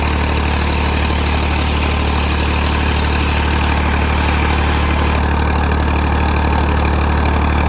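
A vehicle's newly fitted engine idles steadily in hot 42° weather, a loud, continuous low rumble with a constant hum and no change in pace throughout.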